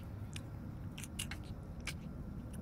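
A game character in Summer of 58 chewing and gnawing, heard as a few short, moist crunchy bursts at a moderate level over a steady low background drone, with no speech.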